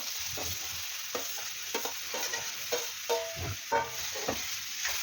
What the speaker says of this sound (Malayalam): പഴം നന്നായിട്ടൊന്ന് വഴറ്റിയെടുക്കുക.